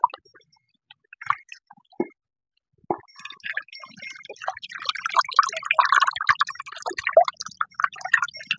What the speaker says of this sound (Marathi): तांदूळ आता स्वच्छ धुवून घ्यायचे 2 पाण्याने, म्हणजे घाण राहत नाही त्याच्यात